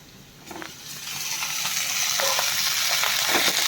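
Whole eggplants dropped one at a time into hot oil set off a sizzle that swells from quiet to a loud, steady frying hiss, with a few soft knocks as they land.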